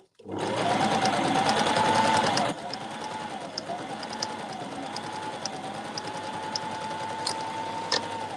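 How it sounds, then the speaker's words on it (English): A sewing machine whirs steadily at close range, its motor pitch wavering slightly as it stitches back and forth, with small clicks near the end. "So I just go backwards and forwards on the sewing machine to make a knot."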